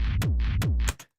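Kick drum samples triggered from a sampler in a quarter-note pattern for acid techno, three deep thumping hits with pitch-dropping low tails over a sustained bassline, loud and close, no talking.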